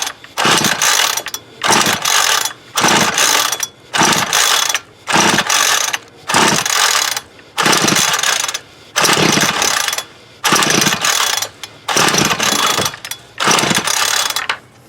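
A Homelite UT33650A 26cc string trimmer being pull-started over and over, the recoil cranking in about a dozen loud, even rasping pulls with short pauses between, engine not catching.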